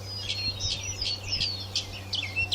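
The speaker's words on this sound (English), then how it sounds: "I listen to the birds sing." Small birds chirp and trill repeatedly in quick, bright bursts outdoors, over a low steady hum in the background.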